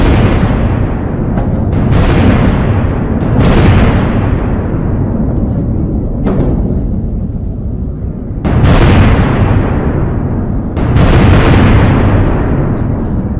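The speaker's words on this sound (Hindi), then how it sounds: "IRGC ईरानी सेना के ठिकाने पर यह इजरायली हमला है" Heavy explosions from an Israeli strike on an IRGC base in Iran, several loud booming blasts at intervals amid rumbling continuous noise and crackle.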